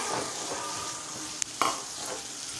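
Grated coconut stirred into fried moong dal in a pan for a poha tiffin, a continuous close sizzle with a couple of sharp spatula knocks against the pan near the middle.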